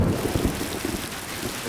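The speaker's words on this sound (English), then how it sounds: "It's raining like crazy." Heavy rain pours down steadily outside a frozen winter bungalow, a dense, close, continuous hiss with low rumbling underneath and no voices.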